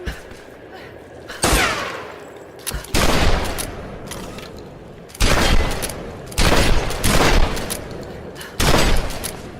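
Gunfire in the Tomb Raider video game on PS4 with a modded controller: loud broadband bursts of rapid shots arrive in several separate volleys with short quiet gaps between them, and no talk over them.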